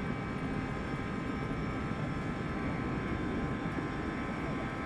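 A DC-8 jetliner's engines held at takeoff power in the X-Plane 11 flight simulator, a steady, loud, unbroken roar with a broad rumble and a faint high whine over the whole stretch.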